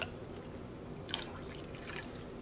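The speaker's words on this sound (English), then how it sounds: "I'm gonna go start rinsing out this bottle" Water rinses out a dye bottle in a faint, quiet trickle with a few soft drips and small splashes, heard close and alone.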